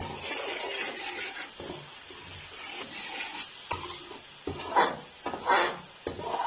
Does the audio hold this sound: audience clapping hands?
no